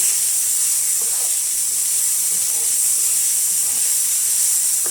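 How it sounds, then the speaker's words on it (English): Green onions searing in a hot pan give a steady, bright, loud hiss that holds evenly for the whole stretch, with no talking. "throw some onions on them, green onions, lightly seared like this."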